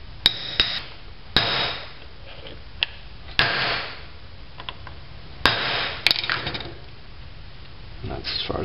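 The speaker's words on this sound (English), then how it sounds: "Let's get a socket and tap it on." A socket taps a new clutch bearing into place on a Toyota pickup, giving a series of sharp metallic knocks spaced a second or two apart, close and distinct over a quiet workshop background.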